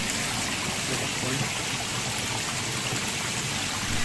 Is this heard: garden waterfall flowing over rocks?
yes